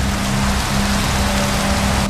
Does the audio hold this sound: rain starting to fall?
yes